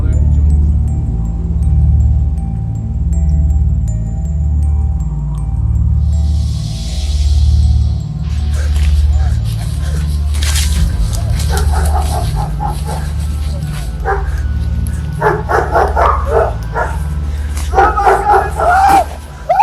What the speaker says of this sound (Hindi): बैकग्राउंड में भूखे और जंगली कुत्तों की आवाजें भी आ रही होती हैं।